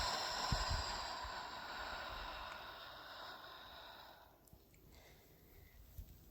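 A long, deep, airy exhale during yoga breathing, a steady close breathy hiss lasting a few seconds before fading into quiet.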